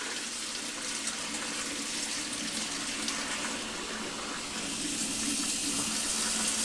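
Hot water runs steadily from a tap over brass cartridge cases being rinsed for reloading, a continuous close splashing flow that swells slightly toward the end, with no talking.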